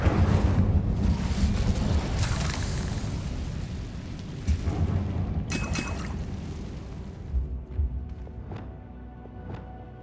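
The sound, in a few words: Incendio fire spell in the Hogwarts Legacy video game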